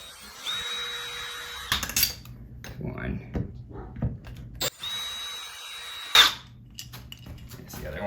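A power drill removing door knob screws whirs in two short bursts with a pause between, each ending in a clatter of metal; a voice speaks briefly in the gap.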